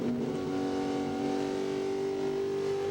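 Close, steady high-revving race truck engine during a 2000 NASCAR Craftsman Truck Series race, a sustained droning roar holding nearly constant pitch for the whole stretch with no speech.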